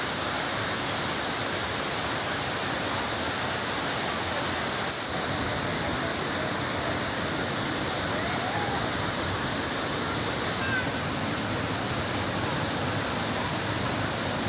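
Kumbakkarai waterfall pours in a steady, loud, unbroken roar of rushing water that lasts throughout, with no voices heard over it.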